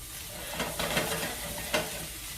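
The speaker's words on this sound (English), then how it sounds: "All right, we're going to give this a good stir." Steak teriyaki stir-fry with pineapple and vegetables sizzling in a pan, a steady close frying hiss broken by a few scraping stirs, with no talking over it.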